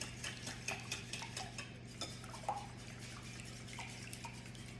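Eggs and batter for rosemary olive oil cakes being whisked in a bowl, a quiet, rapid, irregular ticking and clinking of the whisk against the bowl over a low steady hum.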